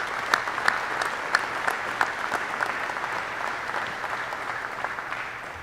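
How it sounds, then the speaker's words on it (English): A graduation audience gathered in a museum hall applauds in a steady, fairly distant patter of many hands, with a few louder claps standing out near the start before it gradually softens. "You'd all deserve a round of applause."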